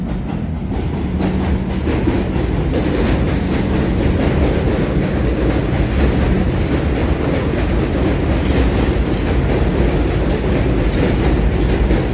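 Subway train passing through Brooklyn, a continuous loud rumble and rattling clatter of rail cars filling the whole stretch, with faint wheel squeal and no talk.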